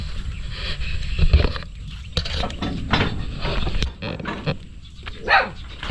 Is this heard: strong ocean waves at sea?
no